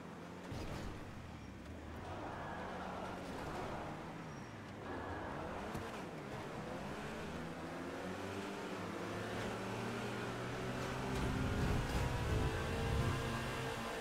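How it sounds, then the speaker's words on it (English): Car engine in the racing game GTA, revving up and down in rising and falling sweeps over a steady road drone, getting louder near the end, with no talk over it. "My car's stuck."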